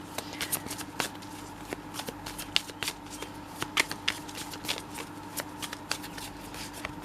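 Tarot cards are shuffled by hand at close range in quick, brisk riffles and taps, crisp against a quiet room, with no talking.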